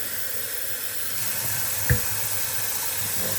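Cold water pours from a tap into a glass container, a soft continuous hiss of flow with one brief knock partway through, close and quiet, with no talking.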